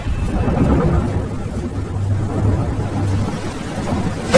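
Heavy downpour with rolling thunder in an animated village scene at night: a loud, steady wash of rain over a deep, continuous low rumble, with no voices.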